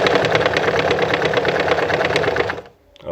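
A Pfaff model 210 sewing machine runs steadily for about two and a half seconds with a rapid, even stitching clatter, close and loud, then stops abruptly into near silence.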